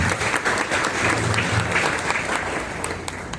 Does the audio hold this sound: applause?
yes